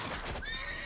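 A horse in The Witcher 3 lets out a brief, loud neigh with a rising whinny, over faint hoof clatter in a less than one-second burst.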